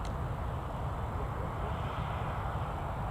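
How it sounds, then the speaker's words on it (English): An Embraer airliner at Newcastle Airport gives a steady, broad engine roar that holds at an even level throughout, heard from a distance with no voices over it. "Maybe it's that Embraer aircraft"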